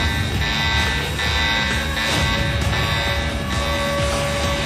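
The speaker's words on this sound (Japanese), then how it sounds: "警報を鳴らして第一種警戒態勢。" A warning alarm blares as a first-level alert is raised, a loud sustained electronic buzzing tone with steady pulsing over a dense rumbling background, no speech over it.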